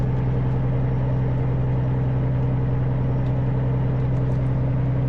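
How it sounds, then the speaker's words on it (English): Inside a vehicle driving along a road near Jasper, a steady low engine and road drone hums continuously at an even level, with no talk. "We're just driving by Jasper right now."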